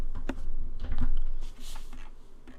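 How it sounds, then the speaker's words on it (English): Typing a character search into a Daz3D poses panel on a computer keyboard, a steady run of close key clicks and taps without speech. "So I'm just going to go to poses and type in Tasha under the search there."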